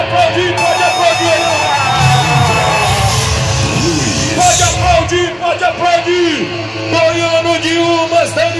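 A rodeo arena crowd at a bull-riding event cheers and yells loudly and continuously, a dense roar of voices mixed with an announcer's amplified speech and music throughout.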